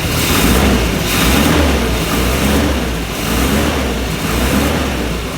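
An old Morgan car engine runs rough and steady, loud and close, with the revs rising and falling in slow waves throughout.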